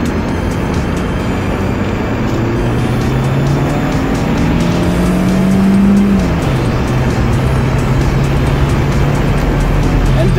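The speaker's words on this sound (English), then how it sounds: "I did burn out a little bit on accident." A car in the driving game BeamNG Drive accelerates hard from a standstill with a brief burnout. The engine revs loudly and tires squeal, then the pitch climbs, drops at a gear change and keeps roaring steadily. No one speaks.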